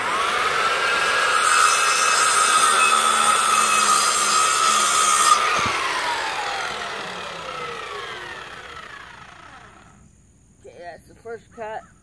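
A hand or power saw cuts through wood for a shelf, a loud continuous rasping stroke that slows and fades toward the end, followed by a few short spoken words.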